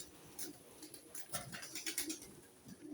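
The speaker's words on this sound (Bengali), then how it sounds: "কবুতর" Pigeons at a village house give soft, low, repeated cooing calls with faint rustling, heard quietly at a short distance with no talking.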